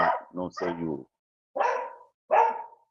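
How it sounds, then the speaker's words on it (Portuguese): Several sharp dog barks come in a quick cluster at first, then two more single barks after a pause, fairly close and loud against a quiet background. "meus cachorros estão latindo aqui direto"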